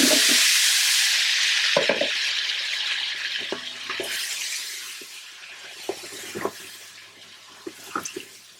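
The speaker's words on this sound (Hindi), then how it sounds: "तो ये कर लेने के बाद इसमें अब आप ऐड करेंगे जो कि आलू हैं।" Half a kilo of peeled potatoes goes into a pot of chilies frying in oil, making a steady broadband sizzle with several soft thuds and clatters scattered through it, fairly close and without talk.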